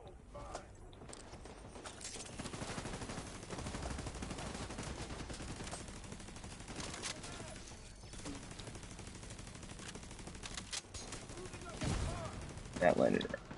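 Light machine gun fire in The Division 2 on PS4 Pro, a dense, sustained burst of rapid gunshots that runs almost unbroken with heavier impacts near the end, loud and close.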